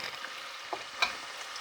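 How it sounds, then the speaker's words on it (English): Onions and garlic paste fry quietly in a pan with a soft, steady sizzle and a couple of brief stirring clinks. "Keep frying it."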